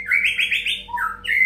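Pet birds in a home aviary chirp up close in quick bright tweets and short rising and falling calls, loud and clear with no voices.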